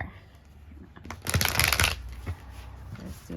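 Tarot cards shuffled by hand during a new moon love reading, a quiet riffling flutter that builds to a dense burst of rapid card slaps, then settles into softer shuffling.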